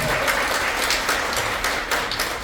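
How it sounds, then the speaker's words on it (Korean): A church congregation at a Sunday service applauds warmly to bless a member, a steady, dense patter of many hands clapping at moderate volume throughout. "크게 우리 박수로 축복하겠습니다"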